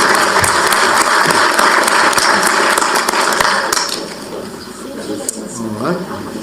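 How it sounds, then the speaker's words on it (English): A room audience gives a round of applause for four debate candidates, dense close clapping that fades after a few seconds into murmuring and voices talking. "let's give these 4 excellent candidates a round of applause"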